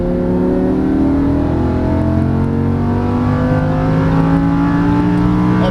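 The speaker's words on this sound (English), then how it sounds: "A little bit of gas, turn sharper, full throttle all the way out." Lamborghini Huracan LP610-4 on a racetrack pulling out of a corner at full throttle, its engine note climbing steadily in pitch, loud and close, with no talking.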